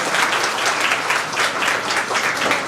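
An audience claps steadily for a few seconds, a dense burst of applause from a crowd indoors at an award event.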